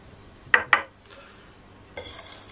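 A spoon knocks against a pot while flour is stirred into the mixture: two sharp quiet clinks, then a short soft scrape after a pause.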